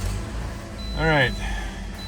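A 2009 Toyota Corolla 1.8L engine idles while raised on a lift, about a quart low on oil with a significant leak. A steady low rumble runs throughout, with a brief squeaky chirp midway.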